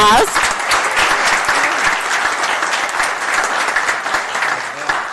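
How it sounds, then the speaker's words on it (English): A city council meeting audience applauds to honor a student council president, with sustained dense clapping from the start that stays strong and even for several seconds, with a voice briefly at the outset. "So let's give her a big round of applause."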